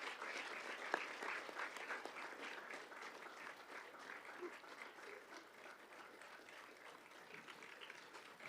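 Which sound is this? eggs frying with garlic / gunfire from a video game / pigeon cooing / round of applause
round of applause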